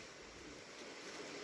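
A river runs nearby after overnight rain, a soft continuous wash of flowing water with a gentle, even rush and no voices, fairly quiet throughout.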